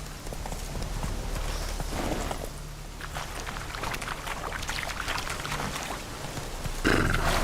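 Geralt's horse Roach in The Witcher 3 moving along, with a steady clatter of hooves under ambient wind and outdoor game sound, moderately close, with a brief louder gust near the end.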